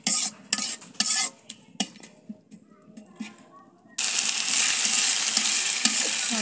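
Ginger and garlic spices fry in a pan with metal-on-metal stirring clinks and scrapes at first, then a sudden loud, continuous sizzle takes over; no talk.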